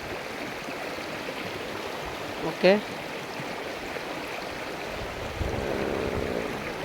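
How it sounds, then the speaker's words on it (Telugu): Water pours down a waterfall in Chittoor district with a steady, continuous rushing hiss. A voice speaks briefly partway through, and the flow swells slightly louder near the end. "పైనుంచి వాటర్ వస్తూ ఉన్నాయి."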